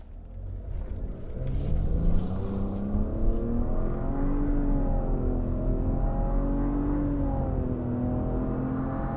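A 2022 Nissan Rogue with its 3-cylinder engine and CVT accelerates, giving a steady, continuous drone with rising and falling tonal whine over a low rumble, heard from inside the cabin without talk.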